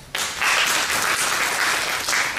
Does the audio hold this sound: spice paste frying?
no